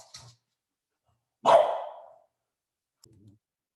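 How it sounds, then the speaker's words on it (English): A single loud dog bark, with a faint short yelp just before and a soft bark trailing off after, in an otherwise quiet setting. "apologies for the barking"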